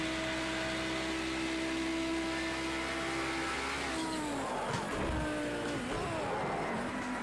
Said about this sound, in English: You can hear the car screaming.